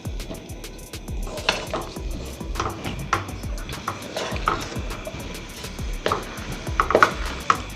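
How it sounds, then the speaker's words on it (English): Shrimp pineapple fried rice stirred in a hot pan: a continuous sizzle under repeated scrapes and clanks of the utensil against the pan, close and loud. "As I said, you want to keep on stirring"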